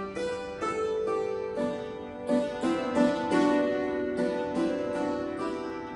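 Hammered dulcimer and acoustic guitar play a lively folk tune over DRM shortwave radio, with bright struck notes in quick succession over strummed chords, sounding slightly compressed and continuous throughout.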